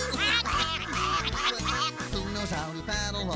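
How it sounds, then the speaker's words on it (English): Ducks quack repeatedly through a bouncy children's farm song on a Barney special, the quacks blending with loud, continuous music and singing voices. "listen to the duckies."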